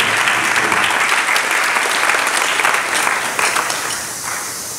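A church congregation at the Church of God of Prophecy in Bond Creek cheers and applauds, with steady, loud clapping that continues throughout and thins slightly toward the end.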